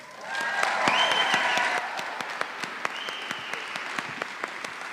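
An audience at a Dancing With the Stars charity evening breaks into loud clapping that swells, holds for a moment, then thins to scattered individual claps.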